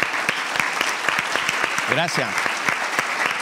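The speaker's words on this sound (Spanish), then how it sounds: "Quiero pedirle a todos ustedes que le brindemos un gran aplauso a los miembros de las Fuerzas Armadas" Steady applause from a seminar audience honouring members of the armed forces fills the space, dense and sustained, with someone briefly speaking over it.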